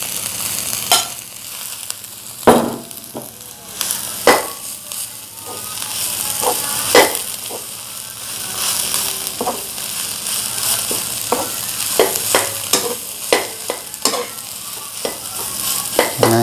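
Cooked rice being stirred into fried black oncom, lenca, petai and basil leaves in a hot pan for nasi tutug oncom, with continuous sizzling and repeated sharp spatula scrapes and knocks, close and busy.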